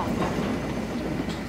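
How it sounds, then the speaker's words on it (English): A wooden toy railway train starts up and rolls along a track, giving a steady low rumble and soft rattling clatter that stays fairly loud and even throughout, with no voices. "I'll start the train for you."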